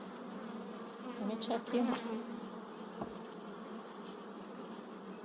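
Honeybees buzz steadily inside an open hive brood box, a dense continuous drone close to the microphone, with a few louder passes from individual bees and a brief spoken remark.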